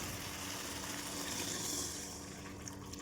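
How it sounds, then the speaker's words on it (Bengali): Water poured into a cooking pot of rohu fish curry, a faint, steady gushing splash that runs evenly for a few seconds before easing off, with no talk. "এবার জল দিয়ে দেবো।"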